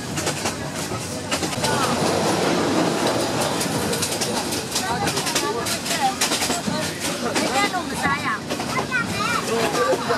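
Inside a train in Myanmar, a steady rolling rattle and rhythmic clickety-clack of the carriage continues throughout, with chirping birds and voices talking in the background.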